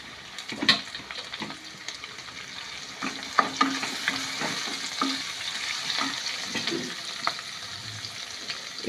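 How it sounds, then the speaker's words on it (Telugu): Chopped onions with green chillies sizzle in oil in a pan while a spoon scrapes and stirs them, a continuous soft frying hiss broken by irregular clinks and scrapes of the utensil. "ఇప్పుడు ఇంకా ఆనియన్స్ ఫ్రై చేసేద్దాం"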